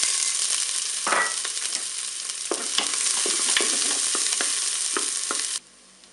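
Onions sizzle in oil in a preheated Cookeo multicooker pot, a steady close frying hiss broken by scraping stirs, then the sound cuts off abruptly near the end.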